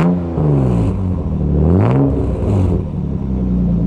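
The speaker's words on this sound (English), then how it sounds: "This car's got a muffler delete, so it's a little loud, obnoxious" BMW with a muffler delete revving hard, a loud, raw mid-pitched exhaust note rising and falling through several throttle blips, close and alone with no talking.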